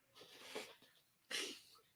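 A breathy inhale builds, then one sharp, explosive sneeze bursts out up close before fading to quiet.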